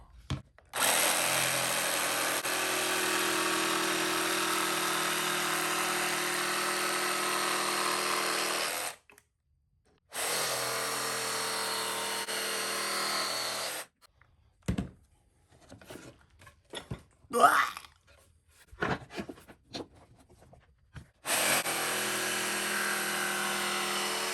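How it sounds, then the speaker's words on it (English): A jigsaw cuts out pattern pieces in a woodworking shop. Two long, steady buzzing cuts are followed by a stretch of knocks and handling clatter, and then the saw starts again. "And jigsaw out these guys here"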